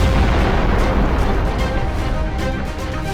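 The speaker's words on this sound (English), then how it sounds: "The explosion was so powerful that the tank's turret was blown off." A drone strike sets off tank ammunition in a huge explosion, heard as a loud, sustained rumbling roar of fire and blast noise that fills the whole stretch.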